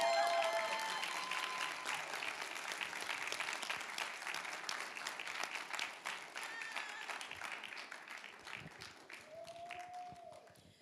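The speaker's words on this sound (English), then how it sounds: "Y'all can still clap a little bit." Audience applause fills a graduation ceremony, dense and sustained for the full length before slowly tapering, with faint voices underneath.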